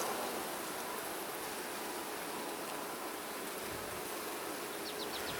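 Honey bees in an open hive hum in a dense, steady buzz that fills the whole stretch, close and even with no pauses or voices.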